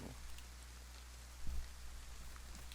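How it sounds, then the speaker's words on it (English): Steady, soft rain hiss in the video game DayZ, with faint scattered drops and a low hum underneath, one brief thump midway. "Okay, get out of this rain."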